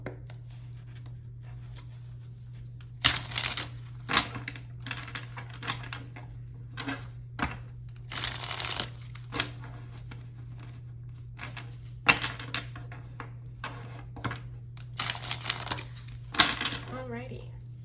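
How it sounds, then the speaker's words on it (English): Tarot cards being shuffled by hand, a series of short crisp riffling bursts and soft taps spread irregularly over a quiet room with a low steady hum, with occasional quiet talking. "Let me shuffle my cards."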